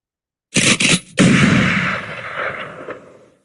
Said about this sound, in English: I gotta shoot my shotgun too.